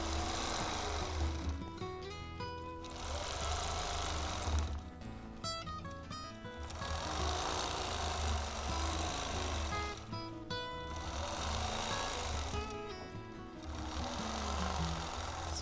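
A sewing machine quilts a crosshatch grid using ruler work, its motor running loud and steady with a fast, rhythmic needle chatter that pauses and restarts a few times, up close, with no speech.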